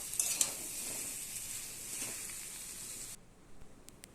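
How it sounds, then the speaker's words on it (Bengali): Raw jackfruit and potatoes fry in oil in a pan, giving a soft, steady sizzle with faint stirring scrapes that cuts off abruptly near the end, leaving a few quiet clicks. "এই যে এঁচড় আলু ভালো করে ভাজা ভাজা হয়ে গেছে"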